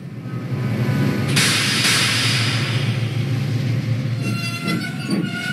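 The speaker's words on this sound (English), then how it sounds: "Whereas Mavis's brakes sound like this." Brakes of Mavis the diesel engine from Thomas & Friends: loud rumbling train noise with a burst of harsh hiss, then high-pitched metallic brake squeals near the end.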